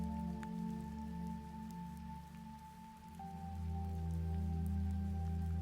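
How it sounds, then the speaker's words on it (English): Soft rain falling in a gentle, steady patter, quiet and continuous alongside a low sustained tone. "The rain softens again, almost blending into silence."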